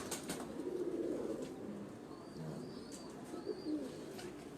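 Breeder pigeons on a rooftop coo in low, soft throbbing bursts, with a brief flutter of flapping wings and faint distant chirps, all fairly quiet and nearby.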